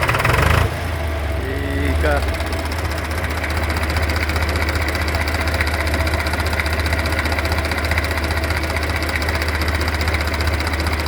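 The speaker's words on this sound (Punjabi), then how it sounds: "ਹੁਣ ਸਟਾਰਟਿੰਗ ਦਿਖਾਉਨੇ ਆ ਤੁਹਾਨੂੰ ਟਰੈਕਟਰ ਦੀ" A 1970 Hindustan tractor engine cranks briefly, catches and settles into a steady, loud, close diesel idle with a rhythmic knock, while someone talks over the running engine.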